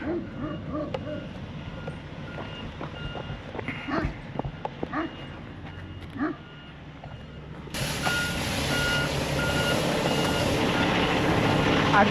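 A gravel delivery truck reverses with repeated rhythmic backup beeps and a rumbling engine, while a dog barks and yips nearby and a person talks; the engine noise swells louder toward the end.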